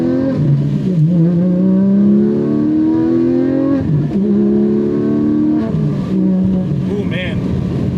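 A Toyota MK5 Supra with its BMW-sourced engine pulls hard through the gears, loud and close, with engine pitch rising in sweeps and dropping at each of several quick shifts.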